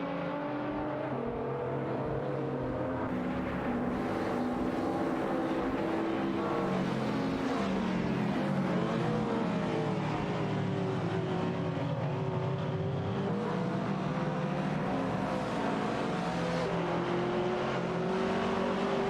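Race car engines in a racing video game drone and whine steadily throughout, with pitch rising and falling as several cars accelerate and pass. The engine noise is loud and continuous.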